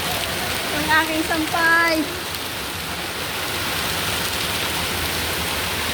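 Heavy rain pours down steadily in a dense, continuous hiss, close and loud throughout, while someone speaks briefly over it at the start.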